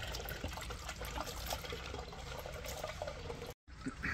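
Used oil from a 2016 Volvo XC60's Aisin Warner 8-speed TG-81SC automatic transmission draining into a container, a soft continuous trickle and dribble with a brief silent gap near the end, quiet and close.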